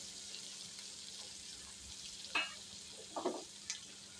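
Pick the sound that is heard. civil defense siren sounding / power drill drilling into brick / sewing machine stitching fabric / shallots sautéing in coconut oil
shallots sautéing in coconut oil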